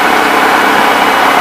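A light aircraft's piston engine idles at about 1000 rpm during a pre-flight run-up, making a loud, steady, unbroken drone up close.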